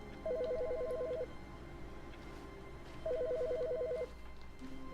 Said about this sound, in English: Wait, the phone's ringing?